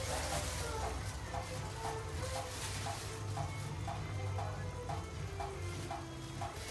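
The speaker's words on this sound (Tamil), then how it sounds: "சுண்ட வத்தல் நான் வறுத்து எடுத்துக்க போறேன்" Dried turkey berries frying in sesame oil make a soft, constant sizzle with faint rhythmic ticking, quiet and continuous throughout.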